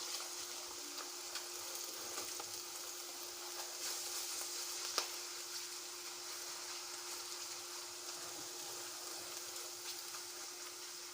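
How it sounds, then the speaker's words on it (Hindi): Onion, garlic and ginger frying in a pot, a steady soft sizzle with faint clicks of stirring, fairly quiet and without talk. "अच्छी तरह हम इसको भून लेंगे"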